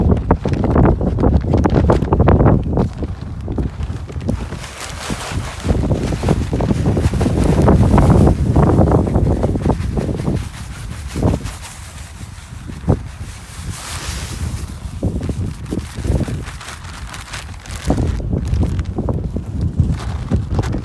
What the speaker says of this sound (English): that wind is really bad